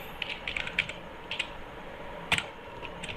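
Keys tapped on a computer keyboard, a fairly close run of light clicks in small irregular bursts with brief pauses and one firmer keystroke midway, over a quiet background hum with no talk.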